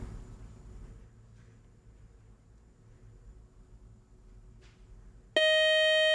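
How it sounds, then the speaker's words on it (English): A quiz show buzzer ends a toss-up round at a high-school Battle of the Brains contest: one loud, sustained electronic buzz cuts in abruptly near the end after quiet room tone. "that buzzer means the end of our first toss-up round"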